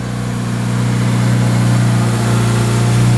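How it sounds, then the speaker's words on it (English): A car engine with an exhaust leak near the flex pipe idles loudly and steadily up close, with a low, rough rumble and a constant droning hum. The car is an Acura RSX. "Car's got kind of exhaust leak right by the flex pipe"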